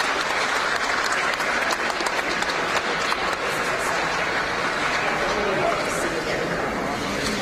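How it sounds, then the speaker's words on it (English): Sustained applause fills the U.S. House chamber, dense and steady from start to finish, with crowd murmur mixed beneath the clapping. "Let's listen to the applause."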